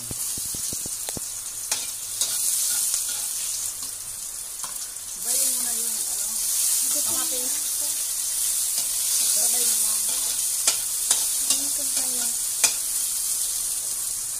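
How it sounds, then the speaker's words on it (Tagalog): Garlic sautés in a little oil with a constant bright sizzle and occasional stirring clicks, while a voice talks over the frying for part of the time. "Kaunting mantika lang. Lagyan na natin yung bawang."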